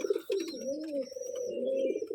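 Giribaz pigeons coo close by in low, throaty, wavering calls, one rolling into the next, with faint higher chirps above.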